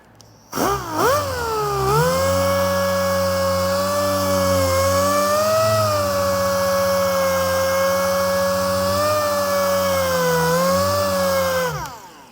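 A small polisher with a large throw sands Porsche paint using a 2000 grit disc, a loud, steady, close motor whine that spins up quickly, holds an even pitch with slight load wobbles, then cuts off.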